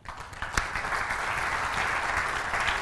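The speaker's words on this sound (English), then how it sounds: "warm round of applause, Rick Hughes" An audience applauds to welcome speaker Rick Hughes at a talk, with clapping that starts sparse, swells quickly after a sharp early clap, and holds at a steady full roar.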